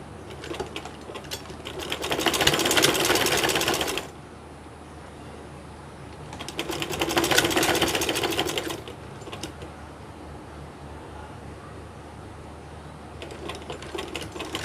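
A sewing machine stitching a kameez neckline runs in two loud bursts of rapid needle clatter, each lasting about two seconds with quiet pauses between, and a third burst starts at the very end; the machine is close and no one talks.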